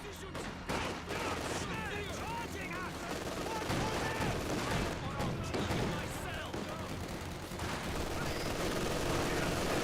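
An MG42 machine gun fires during a Company of Heroes 2 battle, with rapid bursts of gunfire and scattered shots sounding continuously and fairly faint, mixed with other combat noise and a voice talking throughout.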